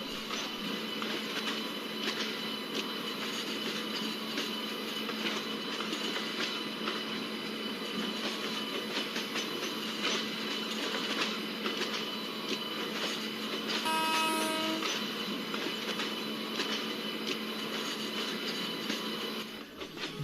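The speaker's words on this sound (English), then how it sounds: "We are slowly overtaking container freight." Express train overtaking a container freight train, with a continuous near rumble and clatter of rail wheels, metallic rattling, and a brief tonal squeal in the middle.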